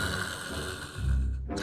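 In a children's audiobook, a narrator's voice imitates a monster panting with raspy, heavy mouth-breaths. The breaths are close and steady, with a deeper gasping rush near the end.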